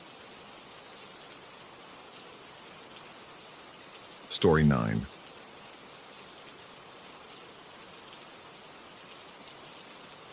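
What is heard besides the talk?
rain falling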